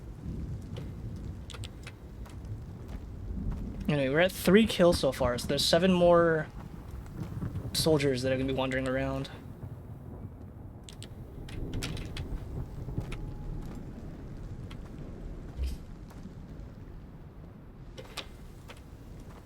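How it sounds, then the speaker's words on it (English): Rain patters steadily on the outside of a building, heard from indoors in the video game Road to Vostok, a soft continuous hiss with scattered drip ticks running under a voice talking in the middle. "I love the sound effect of like when you're inside, you can hear the rain pattering on the outside"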